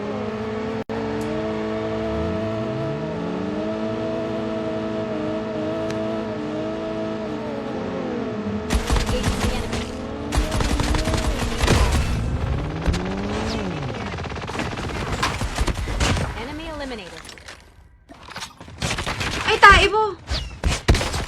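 Rapid bursts of gunfire from an online shooter game, with loot and a farm area, crackle in dense volleys. They follow a long stretch of steady vehicle engine drone and come in dense clusters with short pauses.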